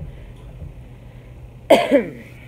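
A single sharp cough bursts out close by after a quiet stretch, followed by a brief second hack, over a low background hum.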